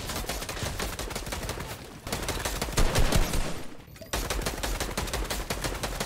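Rapid gunfire in Fortnite, dense continuous automatic bursts close and loud across the whole stretch, with a short pause midway before the shooting resumes.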